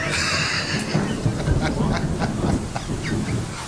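Thunder from a major storm rolls close by as a loud, continuous rumbling roar with crackling bursts throughout, with no speech heard.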